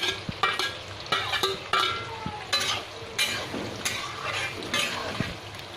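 Sliced onions and spices frying in hot oil for a matar paneer, with continuous sizzling broken by repeated scraping strokes of a spoon stirring the pan, close up.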